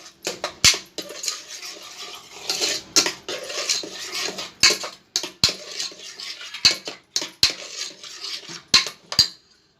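Cooked moong dal being mashed and mixed in a pot with a metal spoon, close rhythmic scraping and sharp clinks against the rim repeating throughout, no talking.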